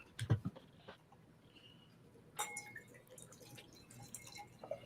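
A New England IPA, a hazy double, is poured from a can into a glass, an early splashing gush followed by softer drips, trickles and fizzing, close and quiet with no talking.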